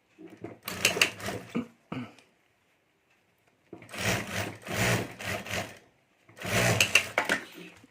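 A sewing machine stitches the top edge of a clutch bag with its zip and lining, running in three rapid rattling bursts, close and loud, with a short knock and a quiet pause between them.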